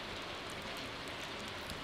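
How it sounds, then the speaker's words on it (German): Soft, steady rain falls in the farming video game Stardew Valley, a faint, even hiss that holds for about two seconds with no voices over it. "Draussen regnet es, oder?"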